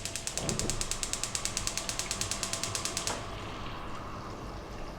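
Stove knob turned to bring the heat back on to below medium while fish cooks with garlic: a fast, regular train of loud close clicks for about three seconds, then they stop and a low steady background hiss remains.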